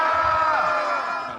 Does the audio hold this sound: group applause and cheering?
yes